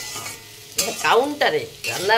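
Potatoes frying in a pan, a steady sizzle broken by a few loud scraping stirs, close up.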